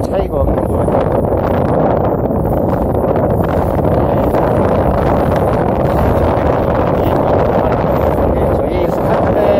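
Strong winter gale buffets the microphone at a seaside wind farm near tidal flats, a steady, loud, low roar of wind noise throughout with no letup.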